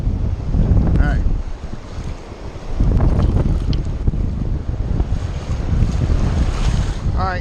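Steady wind buffeting a microphone outdoors during fly casting, a broad continuous rush with gusty swells and a brief lull near the start, loud and close throughout.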